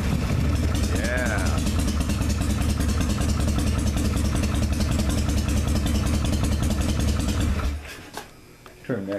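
A 1978 Harley-Davidson Shovelhead SuperGlide engine runs loud and close with a steady lumpy idle for about eight seconds, then cuts off, leaving a quieter tail with a few faint noises.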